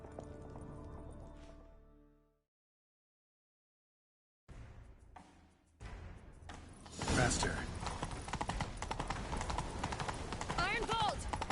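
A horse gallops in The Witcher 3, its hooves beginning after a gap of silence and building into loud, rapid rhythmic clopping with creaking gear, while a voice speaks briefly over the chase.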